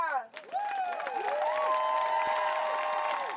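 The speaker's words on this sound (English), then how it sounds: "Clap it up one more time" A crowd applauds and cheers at a gathering, sustained clapping and voices with whoops that swell and hold steady throughout, moderately loud and fairly close.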